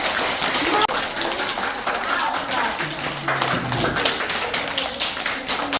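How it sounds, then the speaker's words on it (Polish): Audience applause for performers at a children's poetry event, dense continuous clapping from many hands throughout, with a brief dip near the start and a voice speaking faintly underneath. "Należą się brawa, ogromne brawa"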